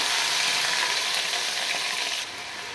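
Cumin seeds frying in a spoonful of oil in a pan, a steady close hiss and crackle that runs throughout and drops slightly in level near the end.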